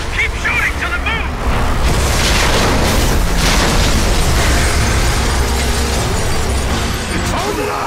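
Gunfire and explosions in Gears of War 3 co-op crowd a loud, dense wall of sustained shooting and booming blasts, with voices talking and shouting over the constant din.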